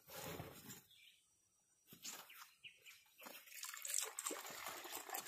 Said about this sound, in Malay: EM yang sudah diaktifkan ni kita masukkan 4 liter.